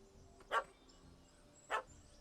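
Two short, faint dog barks from a puppy in The Witcher 3: Hearts of Stone, spaced about a second apart over a quiet game ambience.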